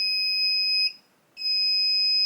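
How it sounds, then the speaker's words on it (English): A FieldTech Traplink Pro clay pigeon trap remote control receiver gives two long, piercing high-pitched electronic beeps, separated by a short gap, loud and near. "The remote control beeps twice to confirm that it's now programmed."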